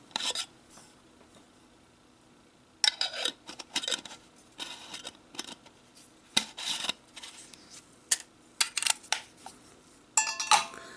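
Metal camping cook kit pieces and an alcohol stove handled and set down, giving scattered bright clinks, scrapes and rattles in short bursts with quiet pauses between, close by.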